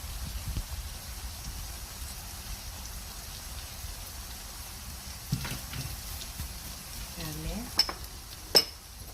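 Vegetables and soaked glass noodles stir-fried for japchae, giving a soft, steady sizzle with scattered clicks and scrapes of a utensil in the pan, louder taps near the end.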